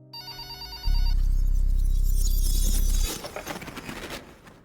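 A telephone rings loudly with a steady electronic bell tone for about two seconds, then cuts off, followed by softer clattering noise.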